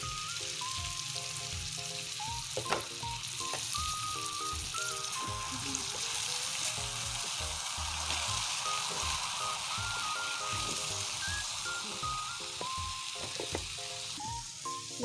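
Sliced bitter gourd (ampalaya) sautés in a frying pan with tomatoes, giving a continuous close sizzle and crackle interspersed with clatters of stirring, and no voices.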